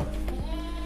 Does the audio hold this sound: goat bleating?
yes